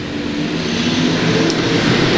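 USRA B-Mod race cars roar together on a dirt track at the green flag, a dense, loud wall of engine noise that swells steadily as the pack accelerates.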